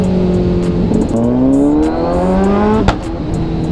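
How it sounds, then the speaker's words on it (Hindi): A Kawasaki superbike engine revs steadily in traffic, its pitch sliding upward through a sustained drone, then a single sharp crack of backfire near the end before the engine settles back to a rumble; no one speaks. "मैंने आज अपना बैक फायर पहली बार सुना"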